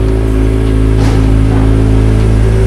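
Kawasaki ZX25R motorcycle fitted with an Akrapovic exhaust, the engine running loud and close with a strong steady tone and a brief rise in revs near the middle.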